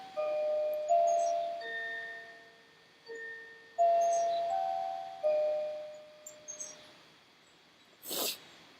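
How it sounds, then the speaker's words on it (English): Electronic chime alert tones played one after another, several clear melodic dings with gaps between them, sounding alone, followed by a short breathy burst at the end. "Let me keep that chime."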